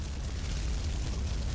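A fire extinguisher shot and bursting in Duke Nukem Forever, a dense, roaring blast and rumbling spray that stays loud and steady through the whole short moment.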